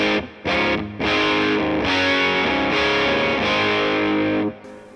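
Electric guitar through Amplitube 5 amp simulation with a booster adding distortion: loud, heavily saturated chords that ring out in several strums with brief gaps between them, then cut off near the end.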